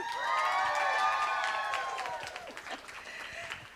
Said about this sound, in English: I'm going to ask you to do that cheer again